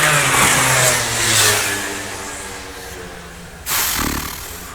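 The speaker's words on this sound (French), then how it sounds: "C'est fou le nombre de scooters qui passent aujourd'hui." Scooters passing along a street, engines swelling and fading as each goes by, with a fresh, closer burst near the end; loud, continuous traffic noise and no talking.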